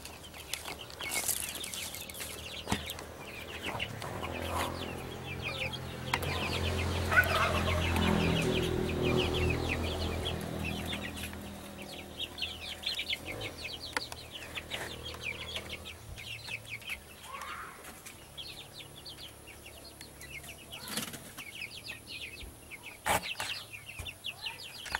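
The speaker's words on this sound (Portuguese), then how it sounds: "filmar os pintinhos que eles compraram. São 30 pintinhos" Naked neck chicks and chickens on a small farm cluck and peep, with rooster-like calls rising in the middle, overlapping and continuous, fairly close, then thinning into scattered clucks and chirps.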